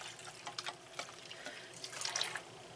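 Chicken broth and 2% milk pour into an Instant Pot pot in a quiet, close, uneven trickle with small splashes, swelling briefly near the end, with nobody speaking.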